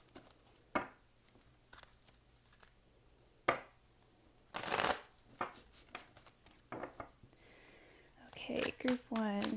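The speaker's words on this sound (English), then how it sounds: "we're just going to shuffle and see what comes out." Tarot cards of the Vice Versa deck being shuffled by hand, giving a few soft riffling and sliding bursts between pauses while a person talks over them at close range.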